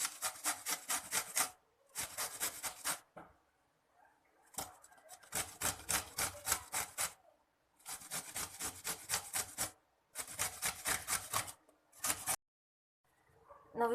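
Raw mangoes rubbed against a hand grater in a kitchen, giving rhythmic raspy scraping strokes in several bursts separated by short pauses, close and fairly loud with no talking.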